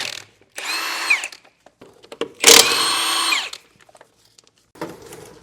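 A power tool, likely an impact driver or drill, works on a trailer wheel during a Timken wheel bearing replacement, two loud sustained whirring bursts with brief quiet gaps and no talk.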